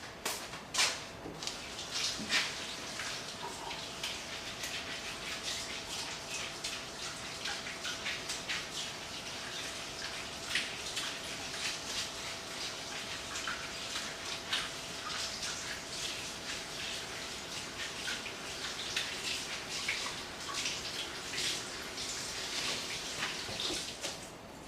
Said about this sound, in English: I'm gonna use a piece of ginger. I'm gonna just go and scrub,